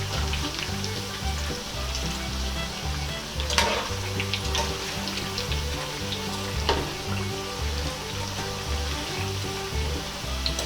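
Sweet potatoes frying with melting brown sugar sizzle loudly and continuously up close, with a bubbling, crackling texture and a few brief stirring scrapes.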